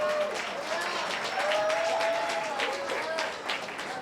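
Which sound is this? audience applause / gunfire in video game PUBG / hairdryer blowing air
audience applause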